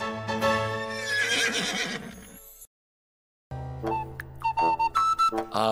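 A horse neighs loudly in a long, quavering whinny, then after a brief silence a second drawn-out whinny rises and falls, close by.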